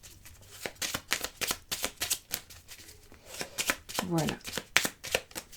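Tarot cards being shuffled for an astrology reading, a close run of rapid riffling bursts and taps in an uneven rhythm, with a voice speaking briefly over them.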